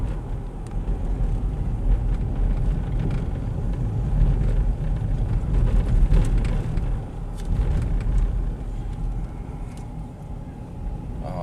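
A Pontiac Aztek rolls along a street with a steady low engine and road rumble, moderately loud and continuous from inside the cabin, with faint speech mixed in.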